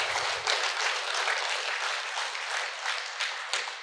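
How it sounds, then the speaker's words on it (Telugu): Steady applause from an audience at a Telugu meditation gathering, a dense continuous patter of many hands clapping that holds at an even level throughout. "ఒకసారి రామరెడ్డి గారు ఒకసారి గట్టి క్లాప్స్ కొడదాం."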